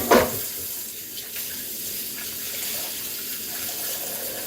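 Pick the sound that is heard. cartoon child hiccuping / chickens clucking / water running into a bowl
water running into a bowl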